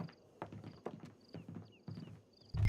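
Horse hooves clip-clop at a steady walking pace in Red Dead Redemption 2, with a soft regular rhythm, moderately close, and a thud near the end. There is no talk.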